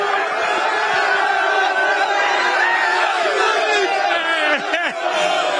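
Corinthians supporters roar and chant en masse at a rivalry match against Palmeiras, a dense, loud wall of crowd voices sustained throughout, with brief shouts rising near the end.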